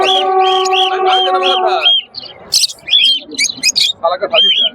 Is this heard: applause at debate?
no